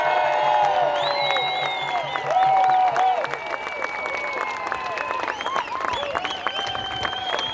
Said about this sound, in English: Put your hands together. Craig Kelly.